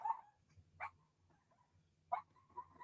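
A dog gives a few short barks and yips, spaced well apart and faint, over a quiet room background.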